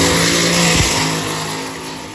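A pickup truck roars down an eighth-mile drag strip at full throttle, its loud engine note holding steady, then dropping sharply as it shifts and pulls away, fading slightly into the distance.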